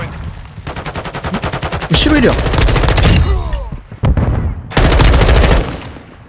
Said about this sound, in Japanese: 右から銃声。